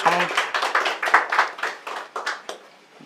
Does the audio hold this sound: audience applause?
yes